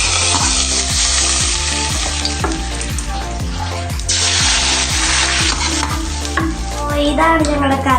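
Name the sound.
mustard seeds spluttering in hot coconut oil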